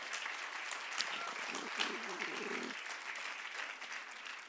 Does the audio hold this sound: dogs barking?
no